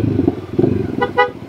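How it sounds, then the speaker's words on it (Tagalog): A motorcycle horn honks in two short, bright beeps near the end, loud and close, after a stretch of road and engine noise. "Dito rin tunog ng busina ngayon, ah."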